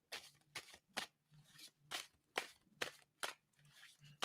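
Quiet, crisp riffling bursts repeat about ten times in a steady rhythm, like a deck of cards being shuffled close by with no talking.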